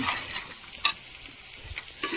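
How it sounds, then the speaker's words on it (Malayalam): Salted, pre-washed peanuts dry-roasting on low heat in an old pressure cooker, stirred with a few dry scrapes and rattling clicks over a faint sizzle; close, quiet and without voices. "ഈ കപ്പലണ്ടി ഇട്ടിട്ട് നമുക്കൊരു ഇടയ്ക്കിടയ്ക്ക് ഒരു 5 മിനിറ്റ് കൂടുമ്പോൾ ഇളക്കി കൊടുത്താൽ മതി"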